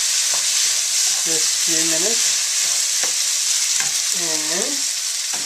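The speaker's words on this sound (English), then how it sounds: "I'm gonna cook tomato just a few minutes." Tomato cooks with browned onion and garlic in a pan, making a loud, continuous sizzle with occasional stirring scrapes, while someone briefly speaks over it.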